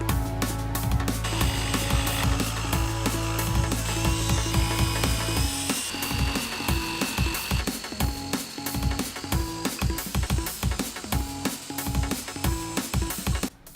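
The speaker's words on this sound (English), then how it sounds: "I want to go ahead and use my jigsaw to cut the rest of it out." A jigsaw saws through wood for a DIY wooden MP5 replica, its blade chattering in a fast rapid rhythm, loud and close, with the motor pitch shifting partway through the cut.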